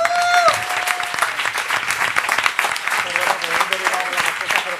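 Scattered applause from a forum audience at a commons-themed conference, uneven clapping with overlapping voices and chatter throughout, moderately loud and close.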